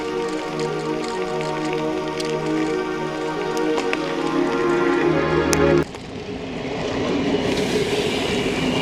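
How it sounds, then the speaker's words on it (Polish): A Swiss train rolls slowly toward Laupen, its loud, close rumble and hum of wheels on track shifting abruptly partway through as the cars pass, with a hissing wash behind it and no speech. "O, jedzie pociąg"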